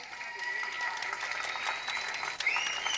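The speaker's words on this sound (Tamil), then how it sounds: "எங்க எல்லாரும் ஒரு முறை நல்ல கைத்தட்டல் கொடுங்க." Audience applause at a live Tamil stage comedy event held for a birthday celebration: a steady wash of many hands clapping for about three seconds, swelling slightly near the end, with a voice talking over it.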